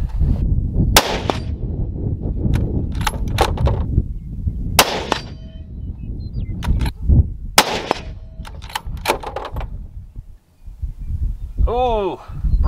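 Gunfire striking 3/8-inch AR500 steel targets: sharp, loud shots, each followed by a bright metallic clang, spaced irregularly over the span with a ringing ping near the end, outdoors with no talking.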